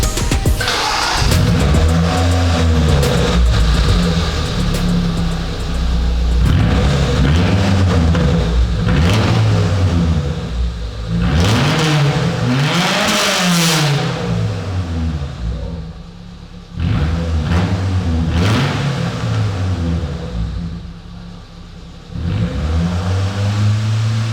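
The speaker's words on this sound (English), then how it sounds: "Let's just see what it sounds like without a muffler, huh? See how much louder it gets" A Proton Wira with its muffler removed revs hard and loud, its raw exhaust note rising and falling through repeated bursts of acceleration and easing off, with no talking.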